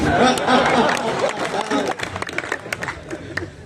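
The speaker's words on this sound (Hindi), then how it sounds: "विनोद तालियां बजाओ" Audience at a 2022 kavi sammelan poetry gathering in Shahjahanpur applauding the poet Vinod, dense clapping and crowd noise filling the hall and thinning into scattered claps, with voices mixed in.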